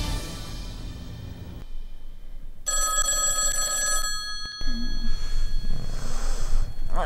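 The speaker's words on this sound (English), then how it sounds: "That is my phone." A telephone bell rings in a single bright, sustained burst of about a second and a half, standing out clearly over a low background hum and breathing-like noise.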